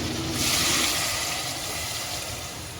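A steady rushing splash of 1.5 to 2 litres of water being poured into a pot of fried chicken, loud and continuous, easing slightly toward the end.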